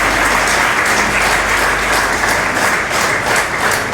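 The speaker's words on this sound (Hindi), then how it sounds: "भरपूर तालियां बजाइए" An audience at a Yoga Day event in Pakistan claps loudly and steadily, a thick, continuous burst of applause filling the whole moment without pause.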